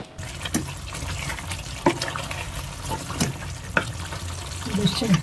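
Chicken being stirred in a pan with salt, chili powder and turmeric, giving a steady wet sizzle with repeated scraping strokes of a spoon against the pan, close and continuous.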